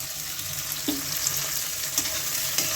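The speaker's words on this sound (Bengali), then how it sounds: "এখন একটু হলুদ আর একটু নুন দিয়ে আলুগুলো একটু ভেজে নিচ্ছি" Potatoes fry with onions, turmeric and salt in a pan for a green pea ghugni, making a steady close hiss of frying with a few light taps and scrapes of the spatula, and no talking.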